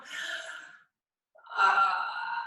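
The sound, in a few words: a deep inhale during a yoga stretch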